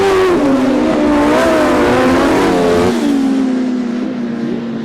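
Grasstrack racing motorbikes at Frittenden Raceway hurtle into the first turn, engines screaming loud and close in a sustained high whine that bends in pitch as they bank through the corner.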